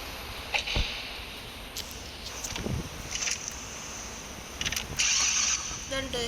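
A pickup truck's engine starting in the video game Car Parking Multiplayer 2, with faint clicks and a short mechanical whir over a hissy background, a brief burst late in the clip, fairly quiet.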